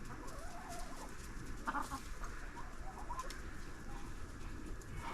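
Chickens cluck softly nearby, with a few short louder calls breaking through a steady background hum.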